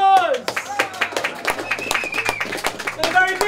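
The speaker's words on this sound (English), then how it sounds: "Thanks everyone who's come, a big round of applause." Scattered hand clapping from an audience at a public Donbass event in Finsbury Park, sparse and uneven claps, with talk and voices over them.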